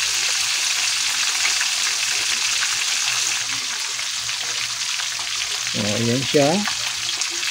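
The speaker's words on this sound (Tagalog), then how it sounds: "Ayan ang aming ulam sa tanghalian ngayon ng pritong tilapia" Tilapia fish frying in a pan, a steady loud sizzle and crackle running throughout, with a brief voice speaking over it near the end.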